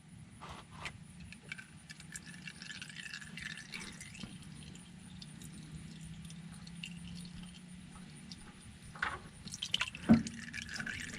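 Engine oil drains from an Infiniti Q during an oil change, a steady liquid trickle with dripping and a few sharper metallic clinks near the end, heard alone without talk.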